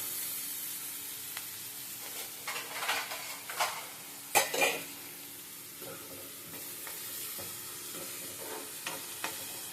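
Onions fry in a pan with a soft continuous sizzle, broken by several scraping stirs and metallic clinks of a spoon against the pan, close and fairly quiet.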